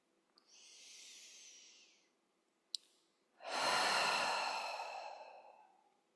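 A long, soft breath out through the mouth during a relaxation exercise, followed after a short click by a louder, fuller exhale that swells and fades slowly; close and alone with no talking.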